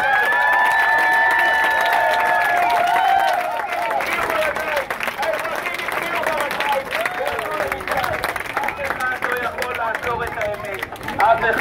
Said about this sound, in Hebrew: אני מבקש כפיים לכולם